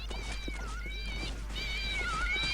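Cats meow repeatedly in the video game Postal 2, several rising and falling cries overlapping over a steady low game-background hum, fairly close and clear.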